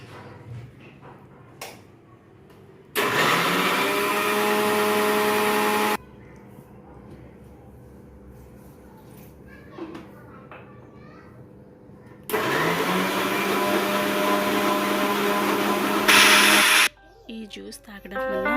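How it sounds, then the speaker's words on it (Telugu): A mixer grinder blending cucumber juice in a kitchen runs in two loud, steady bursts of motor whine, each several seconds long, with quieter stretches and talk between them. "ఈలోపు మిక్సీ పట్టేద్దాం."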